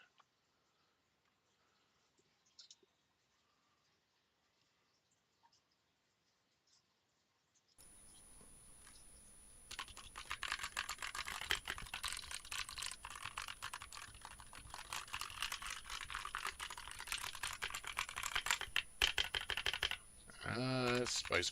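Rapid clattering keystrokes ring out from a Newman GM610 budget mechanical keyboard, starting after a near-silent stretch with a few isolated clicks, then dense, loud, uneven typing close up.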